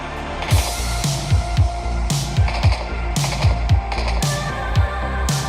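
Video game gunfire crackles in repeated rapid bursts, sharp loud shots with punchy low thumps, mostly alone with no talking.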